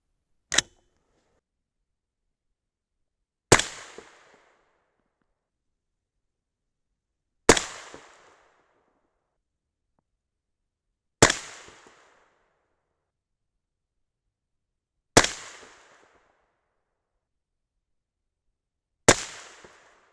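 Six loud, sharp AR rifle shots firing 77-grain Berger OTM Tactical loads over 8208 XBR powder with CCI 450 primers, spaced about four seconds apart, each cracking hard and then decaying quickly into silence.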